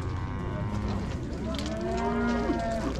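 A cow moos in a long, drawn-out low call that rises and wavers, heard amid the murmur of a busy outdoor livestock market crowd.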